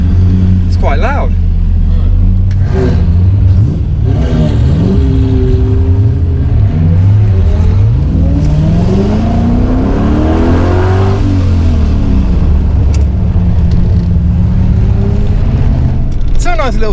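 A TVR sports car engine revs hard on a circuit, loud and close, with rising and falling pitch sweeps across the clip and voices talking over it.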